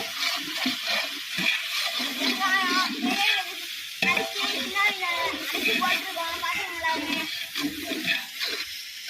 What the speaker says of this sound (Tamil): சின்ன வெங்காயம் அரைச்சு வச்சிருக்கோம் இதையும் சேர்த்து கிண்டிக்கோங்க